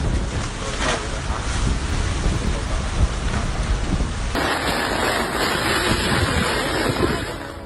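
Dense, constant roar of heavy rain and wind, loud and unbroken, with a sudden shift in tone partway through; no voices.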